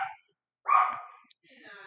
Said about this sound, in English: Sorry if you hear any noises in the background, those are my dogs.